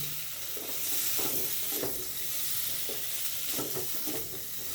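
Spices for a homestyle asafoetida potato dum frying in a pan, a dense steady hiss with intermittent scraping stirs, close and without talk.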